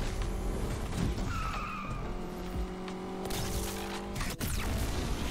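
A Porsche 918 engine in Need for Speed Unbound drones and shifts pitch with tire squeal and skidding mixed in, steady and fairly loud throughout.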